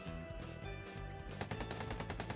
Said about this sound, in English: Gunfire erupts from behind SCP-682.